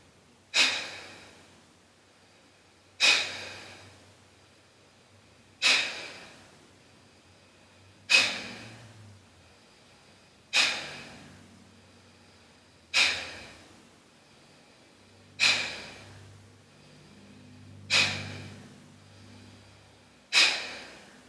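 Forceful breaths of bhastrika pranayama, a yogic breathing exercise, come as sharp, loud bursts roughly every two to three seconds. Each one is close, fades quickly and stands alone with no talk over it.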